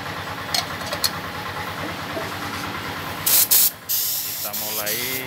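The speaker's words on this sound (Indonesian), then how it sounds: "Kita mulai proses pengekliran. Atau orang Jawa bilang mernis." A spray gun applies clear coat varnish, with a bright hissing blast of spray in the second half over a steady engine-like drone, and people talk nearby.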